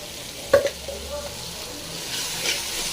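Ginger garlic paste frying in a pan with oil for a pork curry, a soft steady sizzle with a sharp clatter of stirring near the start, then continuous low frying hiss.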